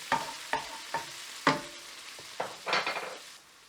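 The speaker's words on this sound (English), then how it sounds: "Give this all a good stir so the onions begin to soften." Onions and cardamom pods frying in a pan are stirred, a series of sharp scraping strokes in irregular rhythm over a soft sizzle, close up with no talk.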